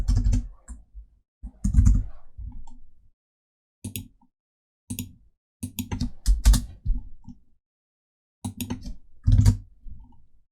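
Keys clatter on a computer keyboard in irregular bursts of quick taps, with pauses between groups. Close and clear, no talking.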